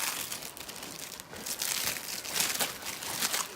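Plastic packaging crinkling continuously as a Kyubi Naruto art doll is unwrapped, giving close, dense rustling and crackling throughout with no speech.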